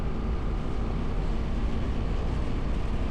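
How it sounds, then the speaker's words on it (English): Wind roars against a rider on an Indian Scout Sixty Bobber at highway speed, a dense, steady low rumble of buffeting mixed with road and engine noise, loud and unbroken throughout, with no talking. "The wind bobbling me around."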